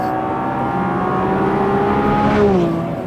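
A naturally aspirated V12 in a Lamborghini Revuelto revving while driving, heard from inside as a smooth, steady engine drone that climbs then sweeps down in pitch, loud and continuous with no talking.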